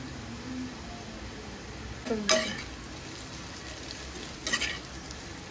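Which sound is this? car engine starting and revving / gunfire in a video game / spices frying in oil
spices frying in oil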